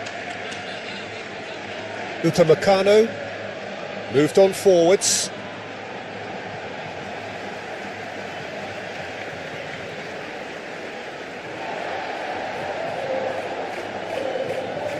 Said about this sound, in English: Momentum has shifted here, Peter, and the crowd are reacting to that now.